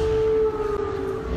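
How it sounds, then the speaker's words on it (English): A steady air raid siren tone in a Ukrainian city holds then begins to waver and fade, heard at a distance over low background rumble. "as emergency air raid sirens wailed."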